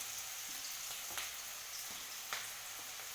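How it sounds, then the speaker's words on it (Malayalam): Chopped onion, green chili and ginger sizzle in hot oil after mustard seeds have popped, giving a steady bright crackling hiss with a few sharper pops and stirring clicks, close and without speech. "കടുക് പൊട്ടിയ ശേഷം ഉള്ളിട്ട്, ഉള്ളിൻ്റെ കൂടെ പച്ചമുളക്, ഇഞ്ചി ഇതെല്ലാം ഒന്നായിട്ട്"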